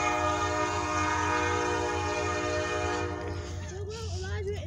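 A Norfolk Southern freight train hauled by five diesel locomotives sounds a long, loud multi-tone horn over the rumble of passing wagons, with the horn fading near the end.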